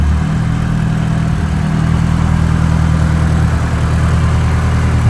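An Audi 1.8 20V turbo engine swapped into a Renault Clio 182 idles smoothly and steadily with a close, even low hum and no misfire.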